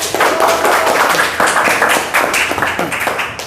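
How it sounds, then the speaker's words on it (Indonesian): A room of people claps together, a dense, lively round of applause that stays loud throughout, with some voices mixed in. "tepuk tangan untuk Lara"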